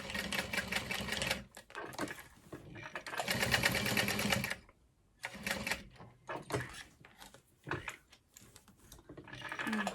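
A sewing machine box stitches a vinyl crossbody bag with purple thread, running in close, rapid mechanical bursts several seconds long. Short pauses and softer partial runs separate the bursts.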